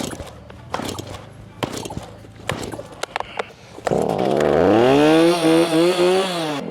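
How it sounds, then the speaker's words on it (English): Several sharp pulls and clattering knocks, then a chainsaw roars to life in the woods, its loud buzzing engine revving up and down close by. "I guess the first goal is to get the chainsaw started."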